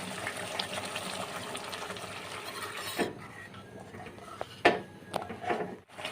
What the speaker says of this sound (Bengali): তো ঝোলটা আমার ফুটতে শুরু করেছে